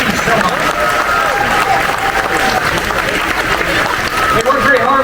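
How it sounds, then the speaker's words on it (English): A theme-park crowd at the Indiana Jones Epic Stunt Spectacular at Hollywood Studios applauds the stunt show technicians. The clapping is loud and sustained, with cheers and voices mixed throughout. "Would you give them a round of applause?"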